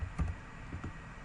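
Typing on a computer keyboard, a few faint close key clicks over low background hum.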